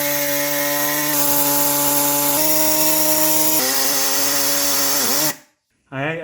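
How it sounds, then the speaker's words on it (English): A power cutting tool grinds loudly and steadily through a rubber bushing and the metal of a Ferrari clutch part, with a sustained high whine that shifts pitch a few times, then cuts out briefly before restarting. "it did cut right through the bushing obviously, and almost through the metal actually on this side"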